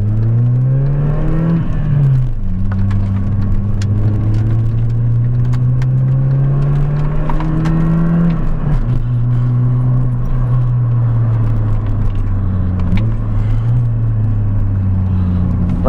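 A Mini accelerating hard on a bypass road, its engine note climbing through the gears with brief dips at each shift, loud and close from inside the cabin, with faint jingling keys.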